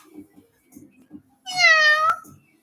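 A cat meows once, loud and close, in a drawn-out tonal cry after a few quiet spoken words.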